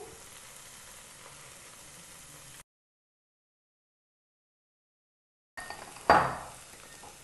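Ginger garlic paste hitting a hot pan for mutton korma, a low sizzle, then a break, then a sharp burst of frying as the paste drops in, with a spoon clink.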